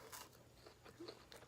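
Cheese sticks from Checkers are bitten into and chewed, giving a few short, soft crunches up close with a sharper crackle at the end, no talking.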